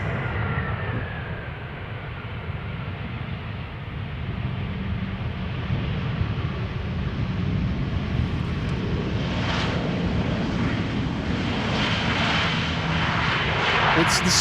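An airliner lands at Amsterdam Schiphol Airport: a steady, broad jet roar that gradually swells and grows louder toward the end, with faint voices underneath.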